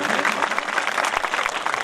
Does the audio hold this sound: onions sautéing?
no